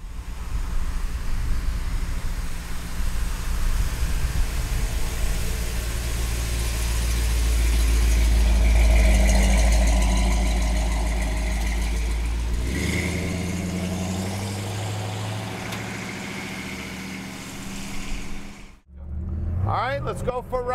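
A 1956 Ford F100 pickup with a 460 V8 runs with a deep, steady engine rumble that swells and then eases, heard with wind-like noise and voices speaking over it before an abrupt cut near the end.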